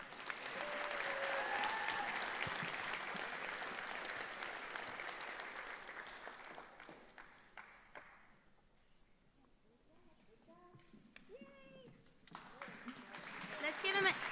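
Graduation audience at a health professions school ceremony applauds, dense clapping and cheering strongest at the start, tapering mid-clip, then swelling again at the end, with voices and whoops mixed in.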